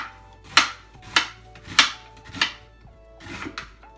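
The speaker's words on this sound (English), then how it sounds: "Then cut the onions." Onions are chopped on a board for spicy Korean pork, giving about six crisp knife strikes at an uneven, unhurried pace, close and clear in an otherwise quiet kitchen.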